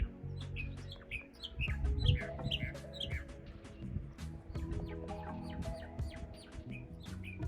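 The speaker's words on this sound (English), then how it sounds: "Listen, the bird." Bird calls ring out on a beach in the central Exumas, a run of quick, repeated chirps over low background rumble and clatter, moderately close but fairly faint overall.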